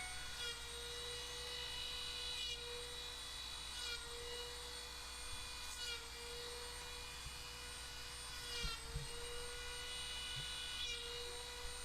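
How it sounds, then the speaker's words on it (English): Dremel rotary tool with a cutoff wheel carving lines into birch wood for a Christmas tree decoration, a steady high-pitched whine running throughout with slight dips in pitch as the wheel bites into the wood. "Another cutoff wheel just to create some additional lines around the star, almost like a starburst"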